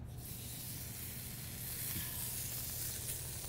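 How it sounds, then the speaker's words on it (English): Steak searing in butter in a hot pan gives a continuous, even hiss, close and fairly quiet, holding steady throughout with no voices. "I'm gonna sear that real good."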